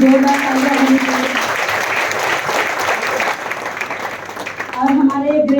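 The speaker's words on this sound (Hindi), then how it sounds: "एक बार गौतम लाली सर के लिए जोरदार तालियां होनी चाहिए" Loud, sustained applause from a large audience at a business directors' experience-sharing event, steady for several seconds, with a voice speaking over it at the start and again at the end.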